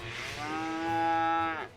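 A single long cow moo from the MMO Project Gorgon, clear and close, rising and holding for over a second before cutting off, with no other sounds.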